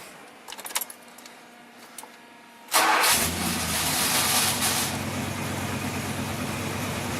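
A car with a failing, sticking starter: faint clicks and rattles, then the engine catches abruptly and settles into a loud, steady idle close by, with no voices.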